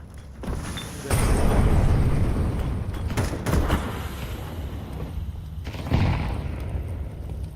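Grenade blast in Counter-Strike: a heavy muffled boom swells and rumbles, followed by scattered gunfire cracks and a second thump near the end, mid-distance in a game match.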